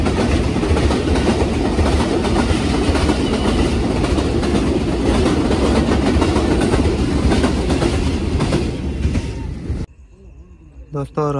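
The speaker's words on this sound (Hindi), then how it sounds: "मेरे सामने से 104 डाउन सुबह खराम रेल कार आ रही है" The 104 Down Subak Kharam railcar train passing loudly and close on the Jhelum bridge in Pakistan at night, a dense continuous roar with clattering wheels, cutting off near the end as someone speaks.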